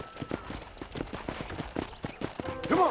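Hooves clip-clop in a steady trotting rhythm, close by, ending with a short horse whinny, in the game Red Dead Redemption.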